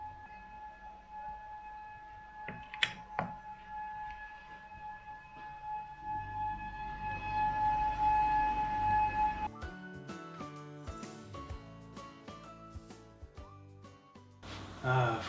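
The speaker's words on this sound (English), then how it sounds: "I guess we have a hurricane siren going off right now." A civil defense hurricane warning siren on Kauai wails as a steady, sustained tone through the first part, heard from a hotel room with faint room noise and some speech; the tone fades out and other clattering sounds follow.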